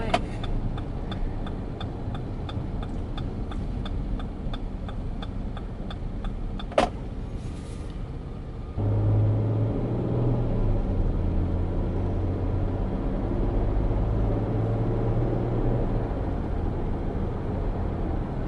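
Steady road rumble and engine drone from inside a moving car, with a faint regular ticking like a turn signal early on, then a deeper, louder rumble as the car speeds up.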